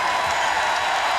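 Basketball crowd at Purcell Pavilion, Notre Dame's home arena, applauding and cheering loudly after a win over Virginia Tech, a continuous dense roar of clapping and voices.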